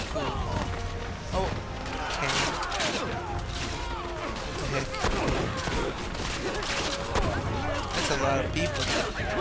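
Gunfire in Assassin's Creed Revelations, repeated shots and crashing battle noise in dense, continuous combat with a player talking over it.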